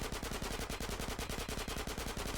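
Rapid automatic fire from a micro SMG in GTA San Andreas Definitive Edition, a steady rattling burst of closely spaced shots that runs unbroken for the whole stretch, loud and up close.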